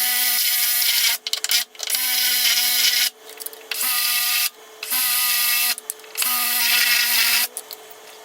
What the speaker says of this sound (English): I'm just going to keep drilling until I know I've definitely gone through the top skin